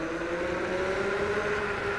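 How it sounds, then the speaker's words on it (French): A JOYOR S10S Z dual-motor 2000W 60V electric scooter accelerating on a rough greenway, with a steady electric motor whine and tonal hum running continuously, close and fairly loud. "On va accélérer."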